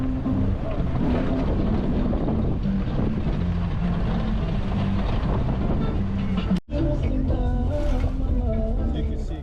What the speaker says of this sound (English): And I'm in this matatu, which is basically a large minivan packed with people.